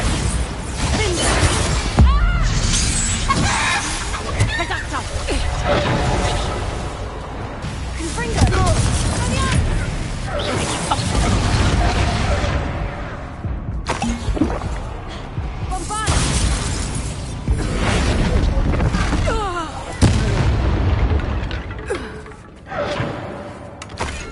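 Loud blasts and shattering crashes from the Bombarda spell exploding in Hogwarts Legacy on PS4, repeated bursts and debris clatter over game music, with a voice speaking at times.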